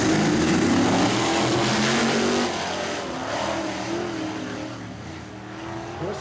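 Race cars at Ohsweken Speedway roll down toward the green flag, their engines holding a loud, steady, throaty drone that dips slightly midway and then carries on alone without voices.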